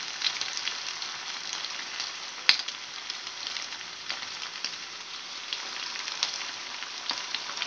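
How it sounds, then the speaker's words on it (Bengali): Chicken kababs fry one by one in fully heated oil over medium heat, a steady soft sizzle with a single sharp pop, no talking. "এইবার আমি তেলটা পুরো গরম করে নিয়ে মিডিয়াম আঁচে দিয়ে দিয়েছি। এবার একটা একটা করে এইভাবে ছেড়ে দেবো।"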